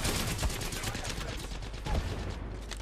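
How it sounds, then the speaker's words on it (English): Gunfire and a grenade blast in an online shooter game: sharp, loud bursts stand out near the start and again just before the two-second mark over a steady layer of noise, with people talking over it. "That grenade hit me."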